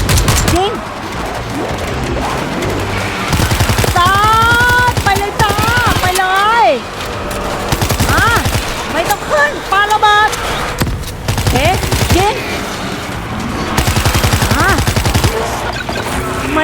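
Bursts of gunfire in the zombie shooter World War Z Aftermath, Marseille Last Bastion level: rapid rattling volleys and single shots run throughout, loud and dense, mixed with game sounds and under a voice talking.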